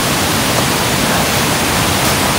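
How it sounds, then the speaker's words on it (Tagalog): A river's flowing current rushes in a steady, loud, unbroken wash at a rainy outdoor camping spot in the Philippines, with no talk over it. "Yung naririnig yung agos, yan yung ilog."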